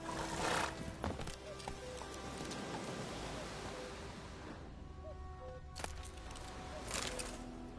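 Roach, a horse in The Witcher game, whinnies and clops its hooves over a steady rain-like ambient bed, with brief louder bursts near the start and around the sixth and seventh seconds.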